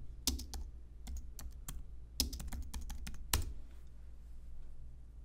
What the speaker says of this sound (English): I'm going to search for a specific mockup template by typing my keywords on the searching bar